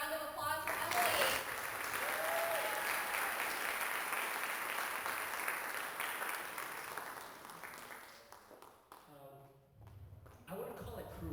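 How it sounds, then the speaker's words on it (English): Audience applause for a student speaker at a speech and debate showcase, a sustained crowd clapping that gradually thins out and fades, followed by a brief quiet gap before a voice begins. "Another round of applause for Emily."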